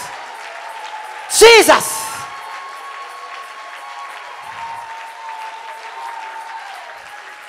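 A church congregation at a service bursts into loud applause and cheering for a moment, then it fades. A preacher's voice continues over a sustained musical tone.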